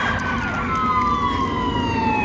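An ambulance siren wails in a long, slowly falling tone, heard in the distance over traffic noise in a Florida street after Hurricane Dorian.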